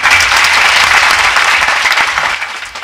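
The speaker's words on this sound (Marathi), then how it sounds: "अजून एकदा जोरदार टाळी वाजा" Loud, sustained applause from an audience at a devotional kirtan gathering, continuous dense clapping that holds steady and then gradually tapers off.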